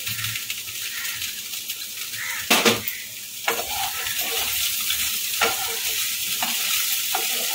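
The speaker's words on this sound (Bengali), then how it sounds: "হালকা হাতে নাড়তে হবে এটাকে।" Flattened rice (poha) is stirred in a hot pan with a spatula, a steady sizzle under repeated scraping strokes and occasional sharper knocks against the metal, close and fairly loud.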